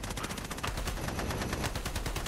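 Rapid automatic gunfire rattles in a VRChat roleplay game, a dense, continuous burst of shots delivered close and loud without pause.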